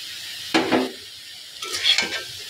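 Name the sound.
stirring banana stem curry in a pan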